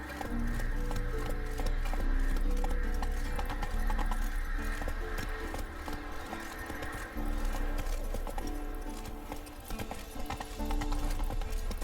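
Hooves of the horse Roach clip-clop at a steady gallop in The Witcher 3 video game, loud and continuous over a dense bed of game music, with an occasional whinny.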